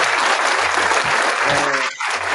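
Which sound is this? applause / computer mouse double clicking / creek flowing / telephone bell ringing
applause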